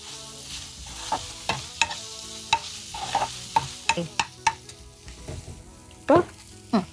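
Ginger garlic paste and tomatoes fry in a pan for kadai paneer, under a low sizzle broken by frequent sharp clacks and scrapes of a stirring spoon at an uneven rhythm.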